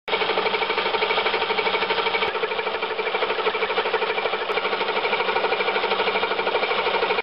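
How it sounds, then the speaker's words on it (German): A drill bores a 5.2 mm hole 13 mm deep while repairing a Porsche fuel tank cap. It makes a steady, loud, rapidly pulsing mechanical buzz that runs continuously for several seconds, close up, with no talking. "Ich habe jetzt den Tiefeneinschlag so eingestellt, dass wir exakt 13 mm in die Tiefe bohren."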